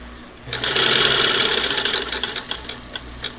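A small Singer Model 99K sewing machine runs at speed, a loud close whirring hum with a fast rhythmic ticking of the hook that starts abruptly and then slowly eases off.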